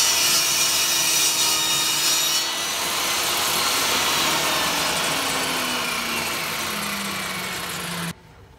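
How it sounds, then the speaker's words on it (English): A saw cuts steadily through a board, ripping wood into 2-inch wide strips, a continuous loud rasping drone with a faint motor hum underneath that stops abruptly near the end. "Okay, so now I'm ready to make some cuts. I'm cutting this into widths of 2 inches."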